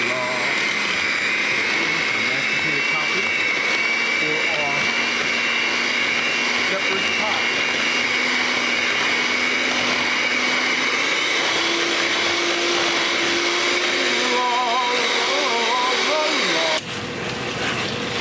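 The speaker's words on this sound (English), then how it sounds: "Take this mashed potatoes, get our handy dandy mixer." An electric hand mixer whips mashed potatoes for a shepherd's pie in a home kitchen, a steady, loud motor whir with a shifting pitch that runs for about seventeen seconds before cutting off near the end.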